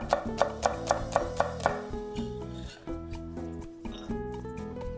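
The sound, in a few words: knife slicing garlic thinly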